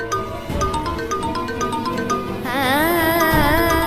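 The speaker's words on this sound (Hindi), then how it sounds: "दादू का फोन आ रहा है।" Phone ringtone for an incoming call, a repeating melodic electronic tone pattern that shifts into a warbling tune partway through, steady and fairly loud with music-like texture underneath and no talking.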